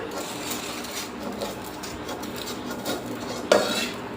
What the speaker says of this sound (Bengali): এবার নামিয়ে নিচ্ছি একটা প্লেটের মধ্যে ঢেলে নিলাম